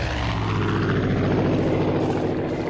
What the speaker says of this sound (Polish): samolot, tylko jestem ciekaw czyj